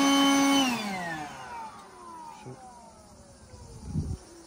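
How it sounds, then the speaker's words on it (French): A leaf blower blowing dust from llama and alpaca wool whines loudly at first, then its pitch slides downward as it winds down, leaving a softer hiss and a brief thump. "on fait tourner la laine et on passe le souffleur à feuilles"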